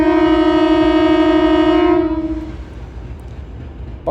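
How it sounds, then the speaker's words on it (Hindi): Hazara Express 12 Down at Rawalpindi station gives its third departure horn: one loud, steady, sustained horn blast held for about two seconds, then cut off, leaving station rumble and ambient noise. "तीसरा डिपार्चर हॉर्न हुआ है जी"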